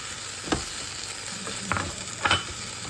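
Chili peppers and eggplant frying together in a pan, a soft steady sizzle broken by a few stirring knocks and scrapes, close by with no talking.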